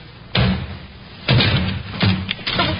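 In a radio drama, a door is forced open with several heavy thumps and bangs, a few loud impacts spaced out over a couple of seconds.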